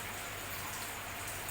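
Heavy rain falls in a steady, dense hiss that stays even and unbroken throughout, with no voices over it.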